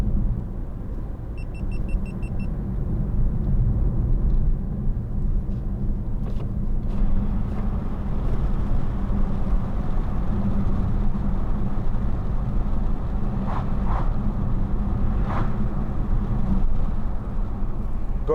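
A 2015 BMW i3 range extender electric car drives at steady speed and accelerates into a corner, giving a continuous low road rumble and tyre noise with faint motor hum throughout, no voices.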